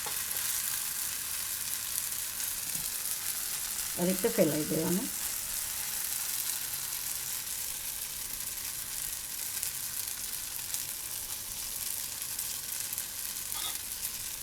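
Dudhi (bottle gourd) uttapam batter hisses on a hot griddle, a steady close sizzle that swells briefly mid-way as the batter is ladled and spread, while someone speaks a few words.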